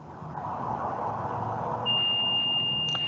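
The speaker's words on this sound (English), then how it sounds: "You hear the beep, the audible too as well." A gas station fuel pump's steady high electronic beep sounds over a low engine-like hum, holding a single tone for over a second near the end.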